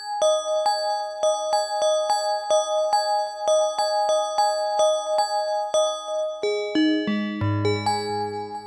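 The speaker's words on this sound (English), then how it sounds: "I think there's one other bell sound that I was using." A bell patch on a Roland FA-06/08 synthesizer plays a steady, evenly paced run of clear, ringing bell notes, then closes on a few lower, fuller chimes. The instrument is heard alone with no voice.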